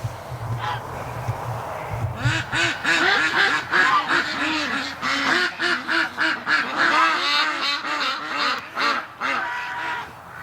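Female ducks in winter quack loudly and continuously, a dense, rapid chorus of harsh calls close by, after a quieter opening with a low background hum.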